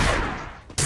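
A loud burst of gunfire in a mobile shooter game match opens the moment, decays over a fraction of a second, then another sharp shot cracks in near the end.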